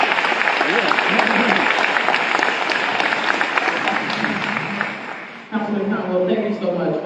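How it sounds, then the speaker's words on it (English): Audience applause for students at a school naming ceremony, a dense sustained wash of clapping with voices mixed in, easing briefly near the end before picking up again. "let's give them a round of applause"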